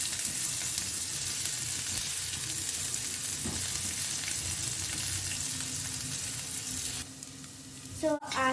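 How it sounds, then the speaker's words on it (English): Onions sizzling steadily in a pan for green pea soup as they cook until transparent and brown, a constant close frying hiss with a brief clank of utensil near the end. "So I have roasted these onions type of a little. They have become transparent and brown."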